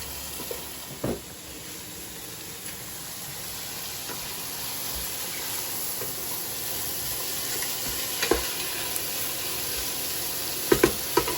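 Cashews frying in oil for chicken biryani, a continuous close sizzle with a few sharp spoon taps scattered through, and no voices.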